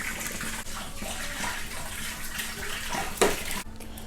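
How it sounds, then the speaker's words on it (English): Water pours steadily from a gallon jug into a bucket in a home cherry wine setup, a continuous close gush with a brief louder splash near the end. "we're just going to pour it into our bucket."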